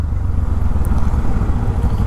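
A Bajaj Pulsar NS200 motorcycle with its stock exhaust idles loudly and steadily, a close, continuous low rumble with no talk over it.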